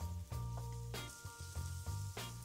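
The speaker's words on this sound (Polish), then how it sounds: "No i teraz możemy już rzucić cebulkę" Chopped onion dropped into bacon fat in a pan, giving a quiet, close sizzle with a few bursts of crackle and clinks of a utensil, and a steady tonal hum running underneath.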